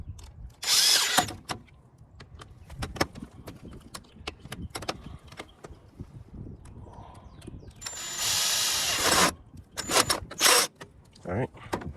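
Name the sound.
power tool tightening oxygen sensor on 2016 Nissan Versa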